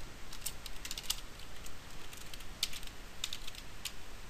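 Code is typed on a computer keyboard in a quiet room: faint, irregular key clicks tap out in short bunches over a soft background hiss.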